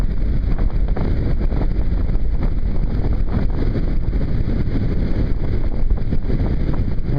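Gusty wind buffeting a microphone during a bicycle ride home on a cold day, a loud continuous roaring rumble with no pauses.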